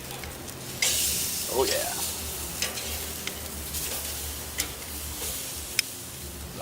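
Pork chops sizzle and fry in a pan, a continuous crackling hiss with scattered sharp pops and a clatter as they are turned, while a voice briefly speaks over it.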